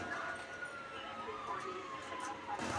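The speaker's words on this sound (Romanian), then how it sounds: "vine poliția" A police car siren wails in GTA 5, a rising and falling tone running under steady game noise for a few seconds, moderately loud and fairly close.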